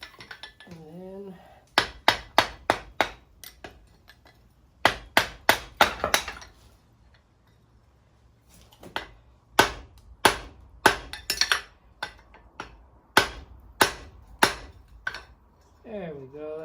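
Heavy hammer blows drive a 3/4-inch (20 mm) steel drift into hot forged metal while shaping a gambrel, landing in quick clustered bursts of sharp, ringing metallic strikes separated by pauses, with a voice briefly heard at the start and end.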